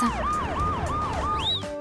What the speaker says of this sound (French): On doit appeler le médecin. Vite, une ambulance!